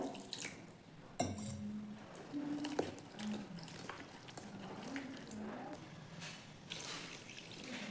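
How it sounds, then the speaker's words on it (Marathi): Soaked soybean chunks get rinsed in cold water in a kitchen sink, with splashing, trickling and dripping, intermittent handling clatter and a faint voice in the background. "थंड पाणी टाकून व्यवस्थित स्वच्छ धुवून घ्यायचे."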